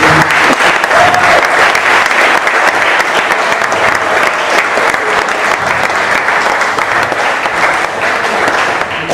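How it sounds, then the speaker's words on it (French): A large audience applauds steadily, dense sustained clapping that stays loud throughout the whole stretch. "Je vais donc vous demander de les applaudir parce qu'elles sont en train de jouer."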